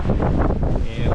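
Strong wind buffets the microphone in steady gusty roars aboard a sailboat close-hauled at about 6.5 knots on an unsettled Lake Michigan, with rushing water underneath.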